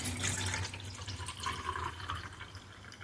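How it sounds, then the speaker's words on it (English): Herbal drink poured into a glass, a steady close liquid splash and trickle running continuously without speech. "So I just pour a glass of it"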